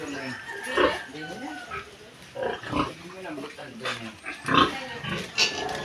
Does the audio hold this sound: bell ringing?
no